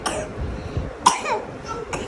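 Close, raspy coughs from a young girl at home, three brief bursts spaced about a second apart with faint throat sounds between them.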